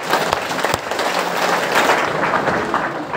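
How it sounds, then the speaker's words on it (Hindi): An audience at a live motivational program claps together loudly, a dense, continuous wash of hands filling the room with a few sharper slaps standing out. "जोर से ताली बजाइए"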